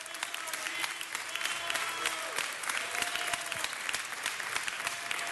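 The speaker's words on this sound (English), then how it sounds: "Give Ms. Martinez a round of applause." Steady applause from a crowd at a city council meeting, a continuous wash of many hands clapping at moderate distance, unbroken throughout.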